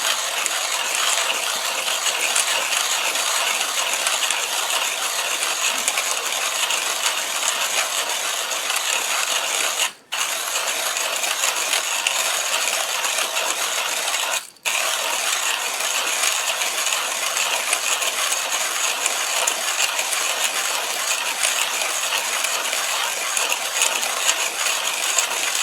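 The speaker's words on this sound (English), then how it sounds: "it's only going to take less than a minute for me to grind all those beans down" A Triple Tree manual coffee grinder crunches coffee beans with a steady, continuous gritty rasp of the burrs as the handle turns, broken by two very short pauses, close and alone without talk.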